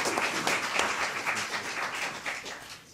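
A press conference audience applauding and cheering, dense steady clapping from many hands filling the room, fairly close and sustained before tapering off slightly at the end.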